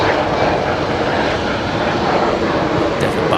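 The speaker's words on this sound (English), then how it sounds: "the Embraer, rolling." An Embraer jet rolls for takeoff at Brisbane Airport, its engines a loud, steady, broad roar that holds constant throughout without breaks.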